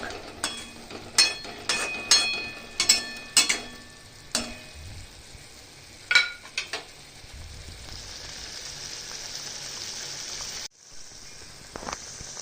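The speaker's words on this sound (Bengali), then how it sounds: "মশলাটা সুন্দরভাবে ভাজা চলছে।" Mustard spice paste fries in a pan with a steady, close sizzle, broken early on by a string of sharp pops and clatters before settling into an even hiss.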